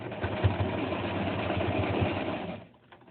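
A sewing machine set to stitch length 3 stitches slowly through thick tote bag fabric, a steady mechanical whirr running for over two seconds before stopping.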